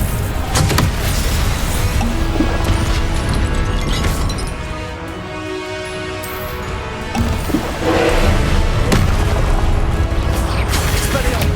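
Repeated Confringo fire-blast spell explosions in Hogwarts Legacy, loud and continuous with booming impacts and crashes, mixed with other combat spells and a voice calling out spell names throughout.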